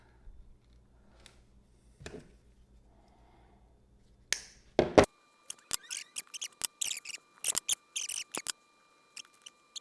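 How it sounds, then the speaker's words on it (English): Scissors snip the excess ends off plastic zip ties in a close run of sharp, crisp cuts, coming in irregular bursts after a few quiet seconds, with no talking. "I'm just snipping the ends off"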